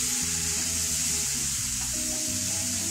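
Sweet corn cooking in a pan on high flame, a loud, steady sizzle with faint stirring, close up and continuous.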